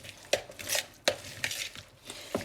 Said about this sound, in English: let's give it a good stir together